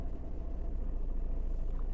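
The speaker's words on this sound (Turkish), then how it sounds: "Yarım kaldırdıktan sonra bir titreme sesi duyuyoruz" Low steady rumble of a manual car idling as the clutch is half released, a dense low-end judder with slight shaking throughout, fairly close and continuous with no talk.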